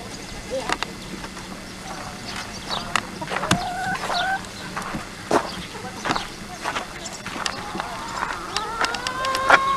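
Hens on a farm cluck and squawk in scattered bursts close by, some calls rising into drawn-out cackles, while people talk intermittently over them.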